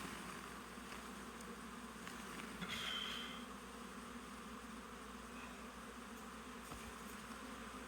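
Honeybees buzz in a steady, faint drone as a beekeeper releases a caged queen bee. The hum stays close and continuous, with a brief louder buzz as one bee passes near.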